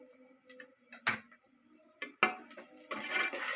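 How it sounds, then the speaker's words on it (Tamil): Onions being stirred and sautéed in a pot for chicken biryani, with intermittent metallic clinks and scrapes of a spoon against the vessel and a soft sizzle building toward the end; no voices. "இப்போ வெங்காயம் நல்லா பொன்னிறமாக வதங்குற வரைக்கும் வதக்கணும்"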